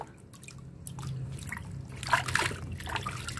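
Water trickles and splashes while a baby civet is rinsed clean during a bath, a soft close dribble that swells into brief splattering in the middle, with no talk.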